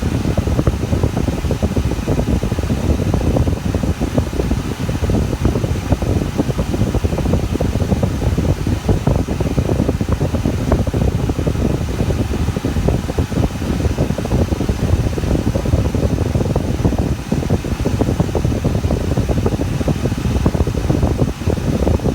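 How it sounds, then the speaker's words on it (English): A car's air conditioning blows hard while the engine idles on a hot day, a loud, steady rush of fan air that continues unbroken and close, with no talking. "the AC is blowing"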